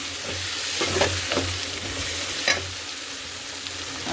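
Onions sautéing in plenty of oil for an onion chutney, a continuous close sizzle with a few soft stirring scrapes and clicks over about four seconds, no voices.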